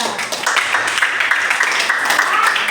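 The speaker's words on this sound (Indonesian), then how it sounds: "tepuk tangan buat mereka" Classroom applause for two students in an Indonesian language lesson, a dense, steady patter of many hands clapping close by with voices mixed in.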